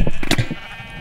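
Sheep in a video game let out a short, loud, close bleat, a quick wavering cry lasting under a second with no speech over it.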